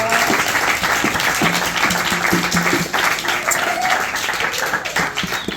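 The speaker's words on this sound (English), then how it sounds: "Give yourself a massive round of applause." Audience applause after a speaker's send-off at a talk in London, a dense steady wash of many hands clapping close and loud for the whole stretch, with faint voices mixed in.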